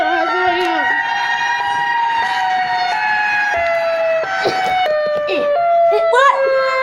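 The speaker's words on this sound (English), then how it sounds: "What? The tornado siren?" A tornado warning siren wails loudly and continuously, its long rising and falling tone dominating, while excited voices shout over it.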